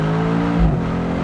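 A Mercedes-Benz C63S AMG W205 engine drones loudly and steadily from inside the moving car, a deep sustained roar with a slight dip and swell in pitch partway through.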